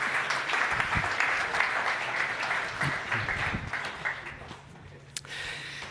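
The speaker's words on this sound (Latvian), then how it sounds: "viņš gaida jūsu aplausus" A conference audience applauds as a speaker is introduced, a dense wash of clapping from many hands that holds steady, then thins and fades out over several seconds, with a brief sharp clap near the end.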